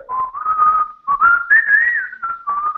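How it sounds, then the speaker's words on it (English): A calm, melodic whistled video game tune, smooth sustained notes gently rising and falling, heard alone and clearly. "it's that very calm whistling thing"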